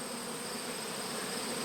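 Bees swarming around beehive frames of donor brood, a dense, continuous buzz that stays loud and even throughout, with no voices.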